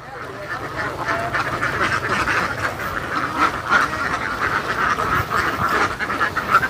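A flock of ducks quacks almost continuously nearby, a dense, irregular chorus of calls throughout with a little human voice in the background.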